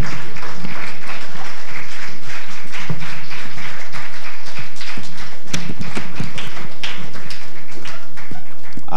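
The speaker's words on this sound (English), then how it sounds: "I'll request that you keep clapping until the panel leaves the stage." An audience at a Kenyan moot court competition keeps up loud, steady clapping, a dense wash of hand claps close and sustained throughout with a few sharper strikes standing out.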